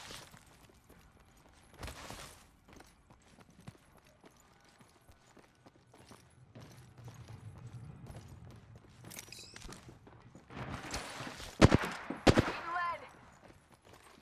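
Gunfire in the battle royale video game Apex Legends, with bursts of shots building toward a loud, dense cluster near the end over a busy game soundscape, while a voice speaks briefly.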